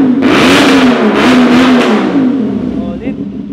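A 2023 CF Moto NK450 motorcycle engine revs hard, its crunchy, loud wail holding high and wavering as the throttle blips, with someone talking over it.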